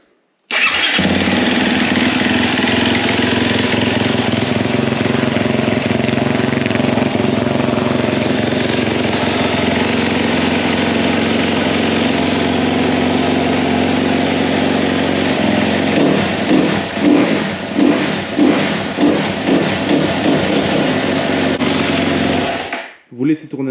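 A 2013 Sherco 300 SEF Factory dirt bike engine idles steadily and loudly up close, then revs in a series of rising blips near the end before cutting off.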